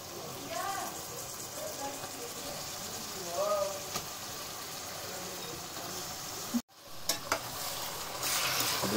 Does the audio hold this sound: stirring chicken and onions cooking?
yes